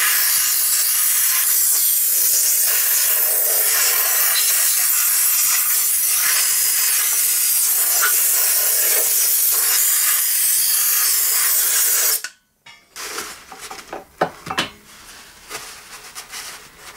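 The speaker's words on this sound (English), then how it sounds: "So what I tend to do is just spray with the airline," A compressed air line blasts loudly and steadily through the inside of an MTD tractor engine to clear out old gasket debris, a continuous hiss for about twelve seconds before cutting off into a few quieter clicks and knocks.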